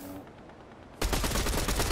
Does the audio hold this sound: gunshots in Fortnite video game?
yes